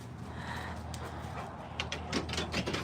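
Dogs pant close by, quick rhythmic breaths over a low background hum, with a few short, faint whimpery sounds toward the end.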